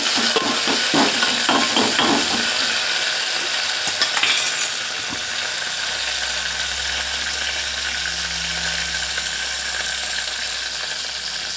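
Garlic and curry leaves sizzle steadily in hot oil while being stirred, with scraping and clinking of a utensil against the pan in the first few seconds, then a continuous loud frying hiss alone.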